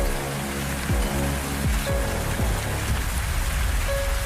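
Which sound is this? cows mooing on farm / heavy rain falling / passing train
heavy rain falling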